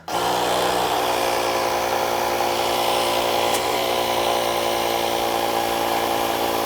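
Compressed air set to about 40 PSI drives a piston out of a brake caliper during a rebuild, a steady loud hiss and rush of air with a faint click partway through, running unbroken throughout.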